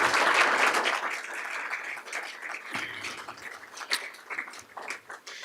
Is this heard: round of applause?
yes